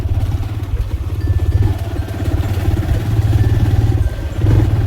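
Motorcycle engine running steadily close by on a rough half-paved track near a hillside temple, a low continuous rumble with slight revving as the bike comes to a stop.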